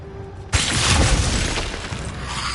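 Glacius ice spell cast in Hogwarts Legacy, a sudden loud burst with a crackling, shattering onset that washes into a sustained noisy roar and slowly fades over a couple of seconds.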